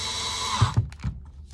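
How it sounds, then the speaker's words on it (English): A power drill whirs steadily for a moment as it drives a screw into wood, then stops, followed by a few soft knocks and clicks nearby. "I'm gonna cheat and use my drill"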